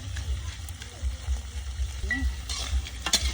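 Lemongrass spices being dry-roasted in a pan before field crab goes in, a soft close sizzle with brief stirring scrapes under a voice speaking throughout.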